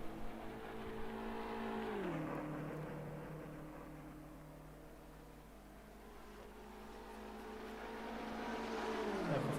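BMW GT3 race car in rFactor 2 at Bathurst, engine droning at steady high revs with a clear downshift and rev drop near two seconds, then climbing again toward the end, loud and alone with no talk.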